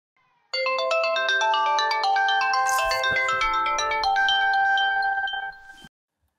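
A mobile phone ringtone plays a bright, loud melodic tune of repeated chiming notes for about five seconds, alone, before cutting off.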